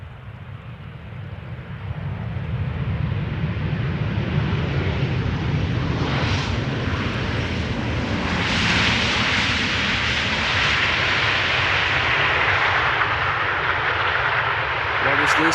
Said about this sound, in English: Boeing 737-800. Flight time 2 hours and 49 minutes to get here from Portugal.